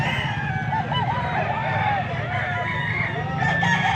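A gamefowl crows loudly and repeatedly at a cockfighting-rooster sale, its calls rising over a crowded, noisy background of murmuring voices and a low rumble.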